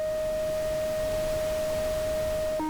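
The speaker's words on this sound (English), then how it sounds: "Just some regular white noise that you can get anywhere." White noise from a Disting module in a Eurorack modular synth patch with Mutable Stages gives a constant broad hiss under a steady pure tone that jumps in pitch at the very end.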